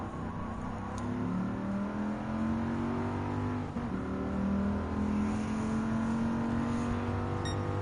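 Race cars in Gran Turismo 7 during an All Japan GT Car Championship race, trailing a Subaru Impreza: a continuous engine drone with rising and falling revs as the car accelerates and shifts, steady and fairly loud, with no voices.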